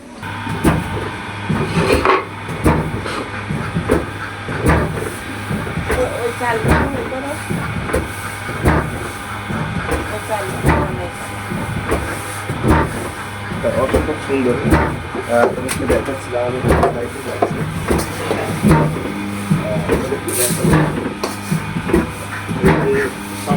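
An electric dheki pounding red rice runs steadily with repetitive mechanical thumps and clatter and a hissing hum, while someone talks over it throughout.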